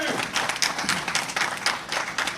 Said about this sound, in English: So give my brother a round of applause.